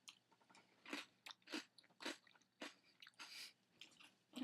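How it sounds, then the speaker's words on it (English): Close, crisp crunching of food chewed straight from a Pyrex bowl, arriving in repeated bites about every half second with quiet gaps between, no talking. "it's gonna be a challenge with all the crunching"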